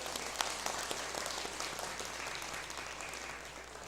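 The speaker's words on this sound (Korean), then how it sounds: "박수 한번 해주세요" Church congregation applauding during a Sunday afternoon service, a steady wash of clapping from many hands that holds evenly for several seconds and tapers slightly at the end, with no voices over it.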